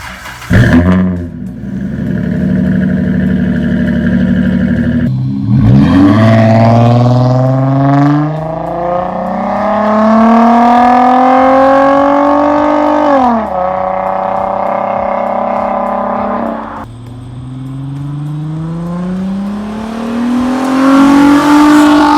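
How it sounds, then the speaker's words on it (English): A Dodge Charger V6 breathing through a Flowmaster Super 10 series muffler, loud and close, with a low idle rumble, then repeated revs that rise and fall in pitch, ending with a long climbing rev. "Many people say that I have a good sounding V6, and I attribute a lot of that to the Flowmaster Super 10 series muffler"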